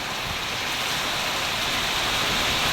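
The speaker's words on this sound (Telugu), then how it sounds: "చూడండి ఎంత పెద్ద వర్షం పడుతుంది" Heavy rain pouring down around a church in a storm, a loud, continuous broadband wash of water with wind, steady throughout and with no voices.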